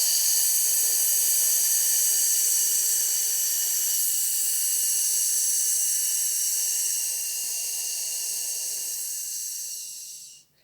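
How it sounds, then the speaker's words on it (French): A long, slow exhalation during a prenatal breathing exercise, a steady soft hiss of breath lasting several seconds and gradually fading out at the end, with no talking. "Et je vais souffler."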